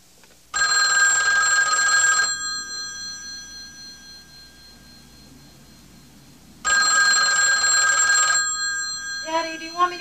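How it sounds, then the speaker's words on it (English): A telephone bell rings in two long electric bursts separated by a pause, loud and close, with voices in the room briefly at the end. "do you want me to answer the phone?"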